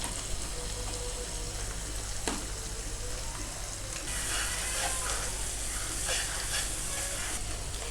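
Cumin seeds dropped into onions frying in hot oil for dal, a steady loud sizzle and crackle with stirring scrapes, brightening partway through as the spices hit the pan.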